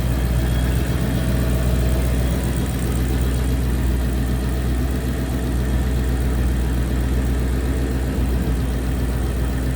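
A Roush-supercharged 2013 Ford Mustang GT engine idles loudly and steadily up close, a constant low rumble with a whirring supercharger hum and no speech.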